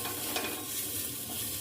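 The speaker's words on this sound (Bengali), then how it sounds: "এটা একটু একটু ভাজা হোক" A vegetable chop mixture of carrot and beet is stirred and fried in a pan, heard as a brief, even sizzle with soft scraping from the stirring.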